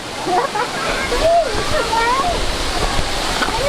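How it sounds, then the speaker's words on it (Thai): Tiered waterfall at Sarika waterfall, with water cascading down in steps, gives a steady, loud broadband rush throughout, while people talk over it. "เห็นปะคะน้ำตกไหลลงมาเป็นชั้นๆ"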